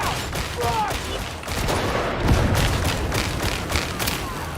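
Grenade blast and rapid gunfire in the Warhammer 40,000: Darktide video game, a dense continuous barrage of shots and booms with a deep thud midway, loud and busy with voices in the mix.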